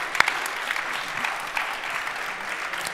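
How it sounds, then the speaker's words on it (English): Audience applause fills the room at the Green Product Award Fashion 2023 ceremony, a steady wash of clapping from a crowd, fairly close and even throughout, with no talking over it. "applause"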